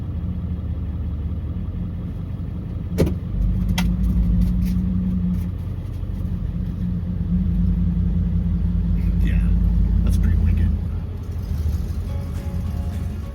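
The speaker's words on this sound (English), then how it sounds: "We're just backing out their Jeep so they can get the forklift in front of me" A Jeep idles and rumbles nearby as it backs out of a repair shop bay to make room for a forklift, a steady low engine drone across the whole stretch with a couple of sharp knocks and brief talk in the background.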